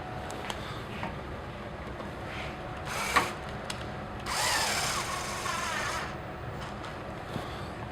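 A power drill drives screws into a FlexKraft module during reassembly, with two short buzzing bursts of the drill, one near the third second and a longer one from about four to six seconds, over a low background hum.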